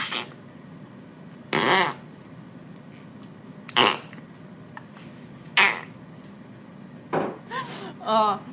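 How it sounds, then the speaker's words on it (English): Several short, wet, fart-like squelches from squeezed Flarp toy putty, spaced a couple of seconds apart, with the last ones coming quicker. "It's the Flarp. It makes fart sounds."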